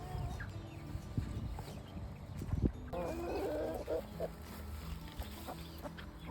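Backyard chickens moved onto fresh grass cluck softly in short scattered bursts, faint and close among low outdoor rustling and murmuring, with other livestock-like calls mixed in.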